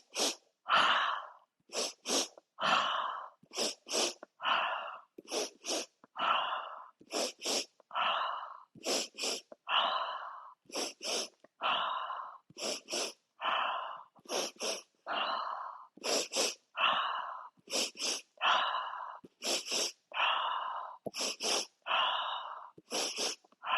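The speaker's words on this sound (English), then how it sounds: "Take a quick 2 sniffs in through the nose and exhale, ha, through the mouth" Close breathing in a steady cycle: two quick sharp sniffs through the nose, then a breathy open-mouth exhale, repeated many times without pause.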